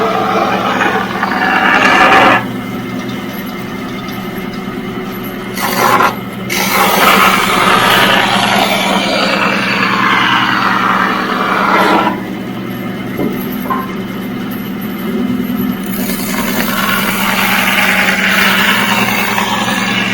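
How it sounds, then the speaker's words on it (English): A bandsaw cuts through a wood workpiece with a steady, loud rasping whine that runs almost the whole time, dipping briefly a few times as the cut pauses or eases. "I can just take it to my bandsaw"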